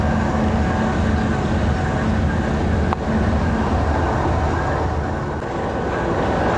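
Pakistan Express, train 46 Down, passing through Jaliani station with a PHA 20 locomotive, a loud, close, continuous rumble and rattle of rail cars rolling past with steady wheel clatter.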